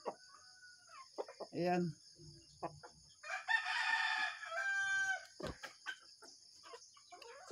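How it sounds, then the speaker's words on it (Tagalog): Rhode Island Red hens on a farm give bursts of clucking and crowing-like calls at close range, with short intermittent vocalizations scattered over several seconds and a brief spoken word at the end. "Ito po guys yung ating tinatawag na Rhode Island Red guys."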